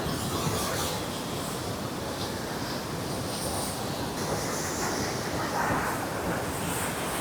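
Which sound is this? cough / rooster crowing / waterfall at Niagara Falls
waterfall at Niagara Falls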